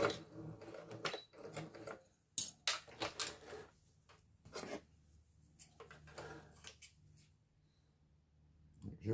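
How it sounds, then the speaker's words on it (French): A home sewing machine backstitches to finish a seam on a beginner's belt bag, giving short bursts of fast mechanical stitching between pauses and fabric handling. "Et point arrière pour terminer."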